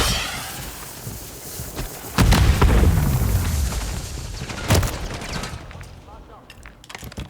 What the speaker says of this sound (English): Smoke grenade!